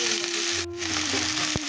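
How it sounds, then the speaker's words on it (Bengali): Vegetables frying in a pan for chow mein give a steady close hiss and sizzle, with a brief stir and a light clink near the end. "এই সবজিগুলো এবার দিচ্ছ, দিয়ে এবার ভাজবে?"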